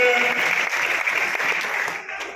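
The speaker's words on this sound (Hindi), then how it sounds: "जोरदार तालियों में, जोरदार तालियों, जोरदार तालियां" Audience at a Christmas program applauding as a guest is welcomed on stage, a steady crackle of many hands clapping that thins and fades toward the end.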